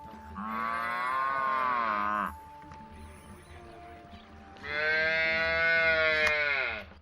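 Ankole cattle from the old Bayankole kingdom of Uganda give two long, loud moos, each a few seconds long, separated by a quieter pause with faint background sounds.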